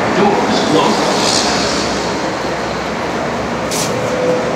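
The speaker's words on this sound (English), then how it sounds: "All right, I'm on the train now." A moving train heard from inside the carriage: a steady loud rumble and rolling roar with faint rail noise and a brief hiss near the end, no speech on top.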